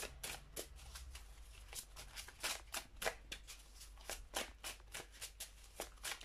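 Tarot cards being shuffled and drawn, quiet close riffling and slapping with a steady run of soft card flicks and taps, no talking.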